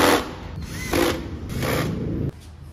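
A small electric screwdriver drives screws back into a motorcycle instrument cluster, whirring in short bursts that stop and start across a couple of seconds, close and moderately loud, with no talk.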